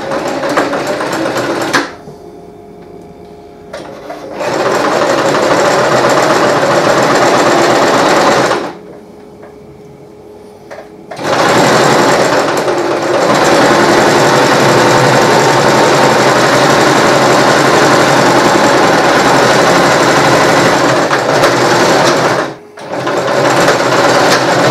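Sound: sewing machine stitching squares onto rectangles of a Viking hood

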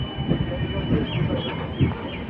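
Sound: North East Express train running

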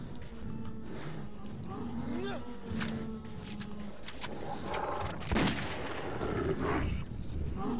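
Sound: pistol shots fired at creatures in video game Metro 2033

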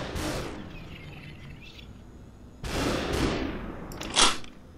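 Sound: gunfire in the video game SuperHot

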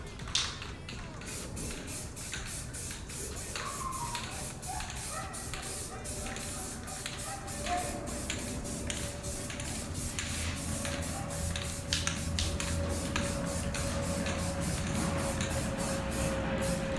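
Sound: spray paint spraying in short spurts

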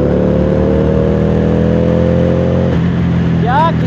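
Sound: Harley-Davidson cruiser motorcycle engine accelerating in first gear

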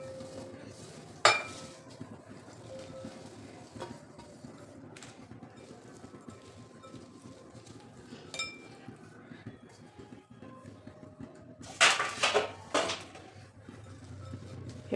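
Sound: mixing chillies and carrots for pickle in a bowl

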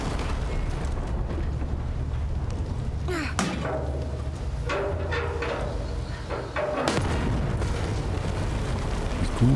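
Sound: cannon firing in video game

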